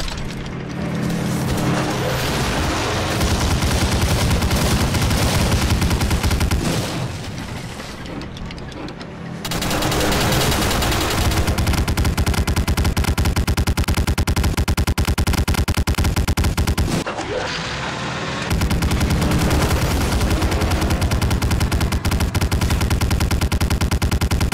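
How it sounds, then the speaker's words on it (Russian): Heavy automatic gunfire from an anti-aircraft gun shooting at a plane in the World War II game Medal of Honor: Spearhead, loud and sustained in long bursts with two brief pauses, thick with booming low-end rumble. "Барнс, бегом к зенитке и продырявь эту птичку!"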